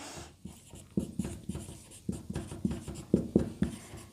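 A pen scratches on paper as a maths solution is written out, with soft, close, irregular strokes and taps in quick succession and no talk over them.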